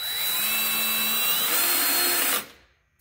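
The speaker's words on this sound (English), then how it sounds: "I have a bit here to pre-drill the hole because this is a softer wood" A power drill whines at high speed for a couple of seconds while pre-drilling a hole in soft wood, then spins down and stops abruptly.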